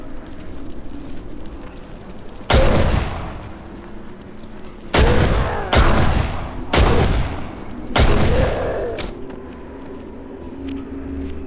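Rifle in Condemned: Criminal Origins firing five loud, sharp gunshots, spaced irregularly a second or more apart, each with a short booming tail over a low ambient hum.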